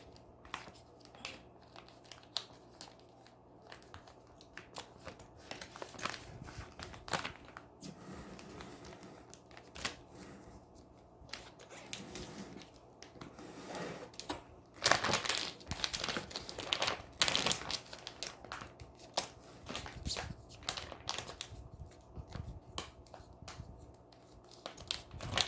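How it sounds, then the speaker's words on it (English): Plastic bag of a Mycolabs shiitake mushroom fruiting block being cut three inches from the bottom, with crinkling and snipping in irregular close bursts, louder around the middle, and no talk. "now cut the bag 3 inches from the bottom"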